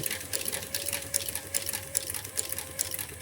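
An industrial sewing machine stitching with 277 thread in both top and bobbin gives a steady, fast, close-up mechanical whir with rapid needle clatter for the whole stretch.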